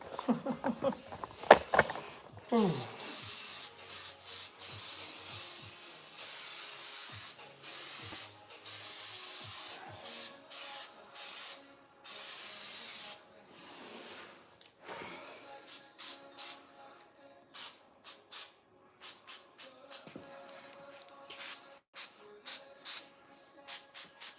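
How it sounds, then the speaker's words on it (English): Flex Seal sprayed from a can onto the rivets on the bottom of a canoe: a few longer hissing bursts, then many short, sharp puffs in quick, uneven succession, close and fairly loud. "I've decided I'm just going to spray paint every one of these little rivets on the bottom here"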